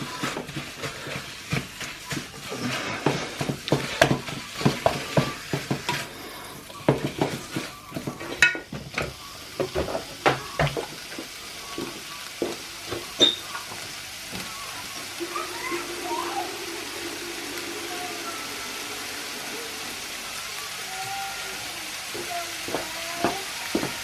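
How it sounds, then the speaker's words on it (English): Low-quality minced beef sizzles and crackles in a hot pan for lasagna, with sharp scraping and tapping as a utensil breaks it apart, the frying hiss steady throughout and a child faintly singing in the background. "in goes my wonderfully not so good quality mince"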